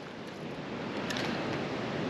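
Wind gusts steadily beside a trout river, a dense, continuous rush with no voices.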